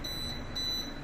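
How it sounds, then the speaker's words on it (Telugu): A thin, steady buzzer tone sounds from an MCC electrical panel after a trip, faint and continuous for about a second over a low hum. "బజర్ వినపడుతుంది కదా, బజర్ సౌండ్ అనేది"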